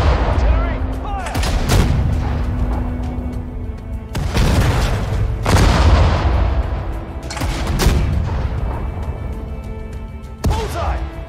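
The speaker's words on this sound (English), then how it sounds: "Artillery, fire!" Artillery fires in Sudden Strike 4 during a desert battle at El Alamein, with about five heavy booming blasts spaced a few seconds apart and long rumbling tails, plus faint game voices in between.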